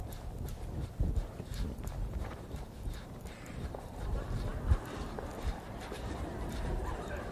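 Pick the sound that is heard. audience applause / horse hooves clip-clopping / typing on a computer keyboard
horse hooves clip-clopping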